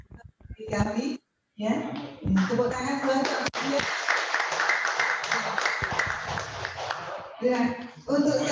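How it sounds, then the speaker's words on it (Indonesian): Clapping from participants at an Islamic talk and prayer gathering, a sustained patter of hands lasting several seconds between short stretches of speech, fairly close and clear. "tepuk tangan buat"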